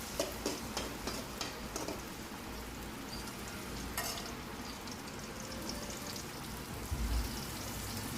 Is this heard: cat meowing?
no